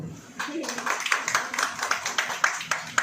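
A gathered group claps hands on a leader's prompt, a quick, moderately close run of a dozen or so claps in a loose rhythm, after a brief voice at the start.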